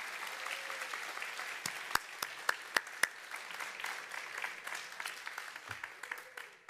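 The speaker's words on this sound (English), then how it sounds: "Let's have a round of applause for all of our 20-year recipients." Audience applause at a university service awards ceremony honoring 20-year recipients, steady crowd clapping filling the room at moderate level, with a few sharper individual claps standing out and no voices over it.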